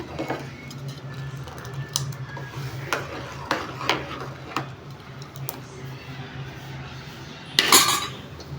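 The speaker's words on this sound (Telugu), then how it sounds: "షుగర్ వేసుకొని కలుపుకుందాము" A spoon stirs sugar into poha payasam in a metal pot, giving scattered light clinks and scrapes over a low background hum, with a brighter clatter near the end and no talking.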